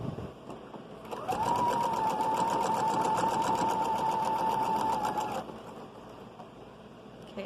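A sewing machine stitches a children's shrug sleeve in a quiet room, with one steady whirring run of about four seconds that starts and stops cleanly.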